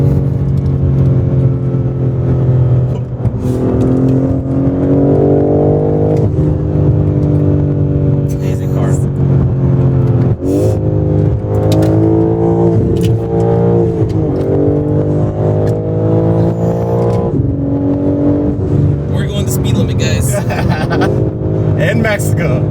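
A tuned BMW car engine roars steadily and loud, its pitch rising and falling as the throttle is pushed hard, with voices talking over the motor throughout.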